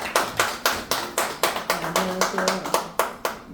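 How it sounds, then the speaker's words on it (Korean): Rhythmic unison clapping from an audience at a year-end concert, about a dozen sharp even claps in steady tempo, with a voice briefly speaking over them. "진은정 원장님 박수 한번 쳐주십시오."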